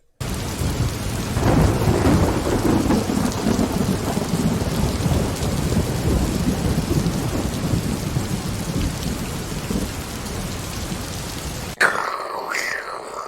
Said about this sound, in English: that's a terrible sound effects of lightning strikes and a thunderstorm